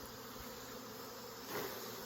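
Honey bees hum in a steady, close buzz around an opened hive during a check for Varroa mites, with no talk over it.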